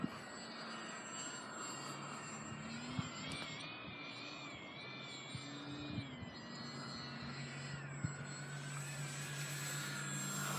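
A small RC model airplane flies overhead, its faint, distant engine whining and shifting in pitch as it climbs and turns, with a few soft knocks in the background.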